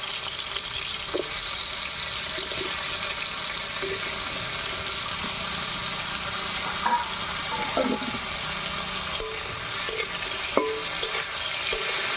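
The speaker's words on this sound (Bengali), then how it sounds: "এদিকে তেলটাও গরম হয়ে গেছে এবারে হলুদ লবণ মাখিয়ে বেগুনটা ভেজে নেব" Brinjal coated in turmeric and salt frying in hot oil for a village-style dal meal, a soft steady sizzle with occasional scraping stirs and light clinks, no voices.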